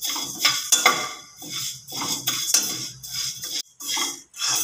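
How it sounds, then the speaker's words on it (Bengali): Moong dal dry-roasts in a pan without oil over a medium flame, with repeated scraping and stirring of a spatula against metal and a light rattle of grains in close, uneven bursts. "ডালটাকে শুকনো তেল ঠেল কিছু ছাড়া ভেজে নেব"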